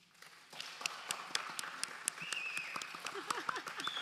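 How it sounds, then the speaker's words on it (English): Audience clapping at a medical panel session, starting soft and building into scattered, uneven claps from a modest crowd, with a voice briefly audible in the background. "You can clap."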